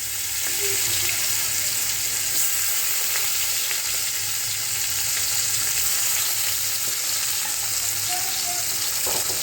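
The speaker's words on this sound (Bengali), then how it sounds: "পেঁয়াজটা ফোড়ন দিয়ে দিলাম" Chopped onion frying in hot oil as tempering for a Bengali pomfret fish curry, a steady close sizzle running unbroken the whole time, with no talking.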